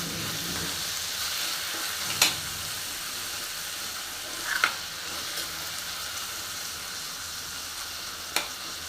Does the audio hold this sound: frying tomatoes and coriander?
yes